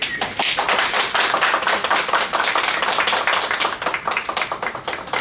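Scattered applause from a small group marks the end of a press conference, a steady patter of close hand claps that continues evenly throughout.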